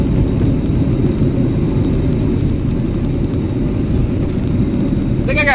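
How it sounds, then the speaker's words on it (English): Steady low road rumble from inside a moving car, with a faint continuous grinding drag that could be a stuck sticker or worn brakes, constant throughout with no talking. "It's got a breaky kind of grindy sound to it."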